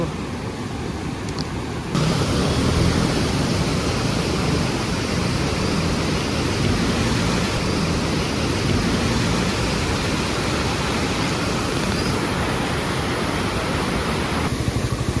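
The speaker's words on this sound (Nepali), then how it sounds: "हाम्रो गाउँ जाने बाटो चाहिँ खोलाइ खोला खोलाइ खोला भल भल" Stream water rushing across a village road, a steady, loud broadband roar of flowing water that runs continuously and close by throughout, with no talk over it.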